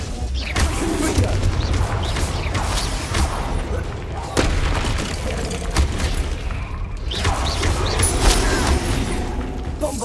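Confringo spell explosions in a Harry Potter video game: repeated loud booms and crashing blasts in quick succession over a rumbling, clattering battle din, with spoken voices mixed in.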